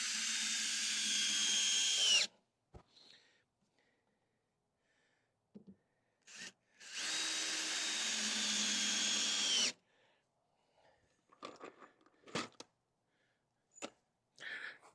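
A power drill driving screws into a deck landing whirs in two long bursts, winding down each time, separated by quiet handling clicks and knocks.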